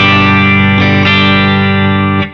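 An electric guitar played through a NUX Mighty 8 BT practice amp on its clean preset rings out in sustained, harmonically rich chords, loud and close, with a couple of new strums before fading at the end.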